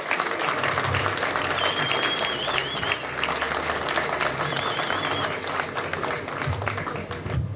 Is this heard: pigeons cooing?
no